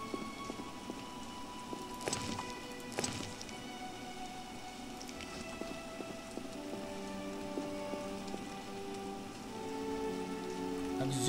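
Rain falls steadily in The Witcher video game, a soft, even patter of drops on surfaces with a few brief splashy knocks and louder spatters, continuing alone without talk.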